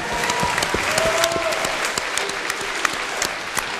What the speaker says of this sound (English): a giant round of applause for bringing the revolution to the next level.